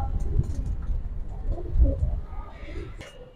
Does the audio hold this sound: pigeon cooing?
yes